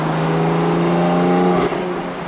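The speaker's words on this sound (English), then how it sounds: "you can hear the turbo spools, which is really cool" A BMW F80 M3 with hybrid turbos roars loudly and continuously on a dyno, a high whirring turbo spool whine riding on top, easing slightly near the end.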